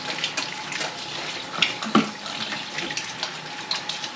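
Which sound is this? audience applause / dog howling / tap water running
tap water running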